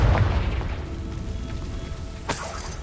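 A blasting spell goes off in Hogwarts Legacy, a loud booming burst at the start trailing into a rumbling, crackling tail, with a second sharp blast near the end over continuous game ambience.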